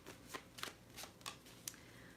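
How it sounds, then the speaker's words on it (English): A deck of tarot cards being shuffled quietly and close, a series of four or five short riffling bursts spaced about every half second. "Shuffling it back in"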